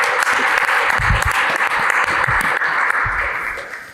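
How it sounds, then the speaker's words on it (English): Conference audience applauding as a speaker is welcomed to the stage, loud continuous clapping from a full room that stays even before tapering off at the close. "A round of applause, please."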